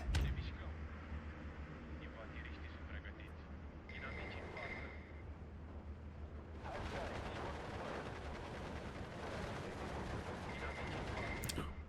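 Mortar fire and gunfire rumble through a battle in the video game Steel Division 2, a dense, continuous din of distant shots and blasts with faint talk beneath.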